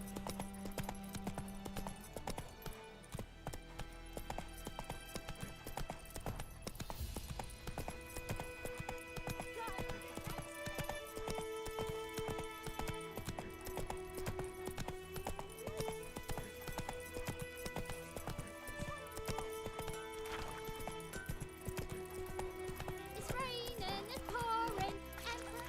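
Roach the horse's hooves clip-clop in a steady trotting rhythm in The Witcher 3, running under game music and ambience for the whole stretch, with an occasional snort or whinny.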